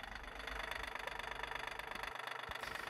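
A diesel engine, being checked for fuel leaks at its bleed points, runs steadily at idle with a rhythmic knocking pulse, close and continuous with no talk.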